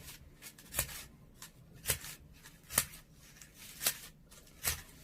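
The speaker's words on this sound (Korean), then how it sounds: "가위질을 할 때는 이렇게 접어서 여러 겹을 한꺼번에 해주면 더 좋습니다." Scissors snip through several layers of folded paper being shaped into a carnation, five evenly spaced crisp cuts close up and quiet, with no talking.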